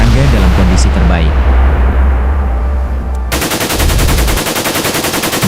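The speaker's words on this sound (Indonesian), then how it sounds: "sebuah berondongan senapan mesin menghujani barak pasukan Rangga" A machine-gun burst sound effect: a loud, low rumble gives way to a rapid, evenly spaced rattle of shots that continues to the end.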